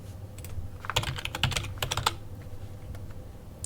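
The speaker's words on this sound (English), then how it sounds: "Ignore the fact that I'm typing." Keys clatter on a computer keyboard in bursts of quick taps, close and moderately loud, then trail off into quieter scattered presses.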